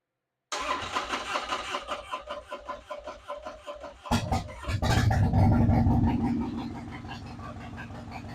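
A car engine cranks with a rhythmic starter whir for about three seconds after the key is turned with the choke pulled, then catches and settles into a loud, steady idle close by.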